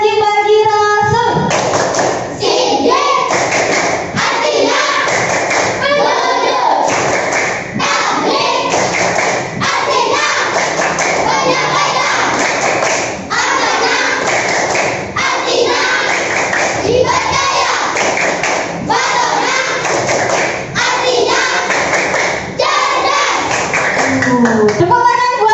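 Children chant in unison to a steady rhythmic clapping pattern, loud and continuous, with thumping claps and group voices filling the room.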